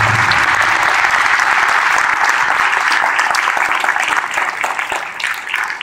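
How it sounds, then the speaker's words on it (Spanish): Event audience breaking into loud, sustained applause that fills nearly six seconds, a thick wall of clapping from a large crowd that thins slightly toward the end. "me pido un aplauso para ustedes mismos"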